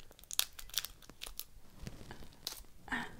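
Snack package of Aussie Bites being cut open with scissors, a quick series of close, crisp snips mixed with light plastic crinkling, quiet and without talk.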